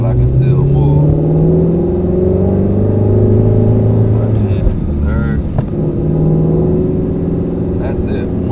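Ford Mustang GT350 V8 engine pulling in second gear while rolling, a steady loud drone with layered harmonic tones and a brief dip midway, continuous throughout.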